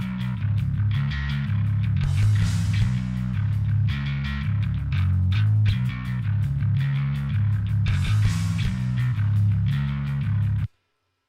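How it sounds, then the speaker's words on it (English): Drums and a distorted, grumbly bass in the same key play together in a steady groove for several seconds, then stop abruptly. "just starts off with drums and bass in the same key"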